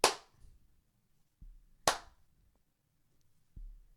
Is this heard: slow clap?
yes